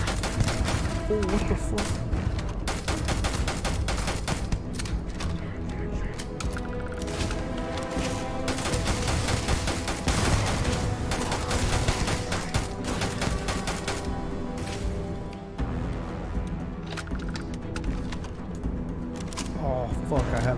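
Rapid bursts of gunfire from shooting an enemy in the Starfield video game keep going for about twenty seconds, loud and dense, while someone talks and swears over the shots.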